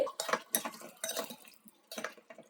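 A spoon scrapes and knocks against a cooking pot while Kashmiri dum aloo, potatoes finished with kasuri methi, is stirred, making close, irregular bursts of clinks and scrapes with short pauses between them.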